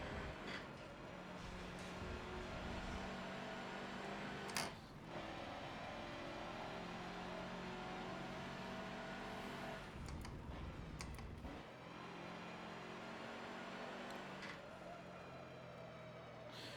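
A truck driving in Forza Motorsport 7, with a steady engine drone that holds throughout, some brief louder bumps and rising tones, and no talk.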